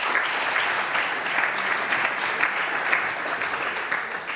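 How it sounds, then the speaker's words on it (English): A youth parliament audience gives a sustained round of applause: many hands clap at an even, loud level throughout, with no voices heard over it. "And I think a round of applause to them."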